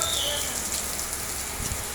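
Heavy rain hisses steadily across the whole stretch, a dense broadband wash with a faint low thump near the end.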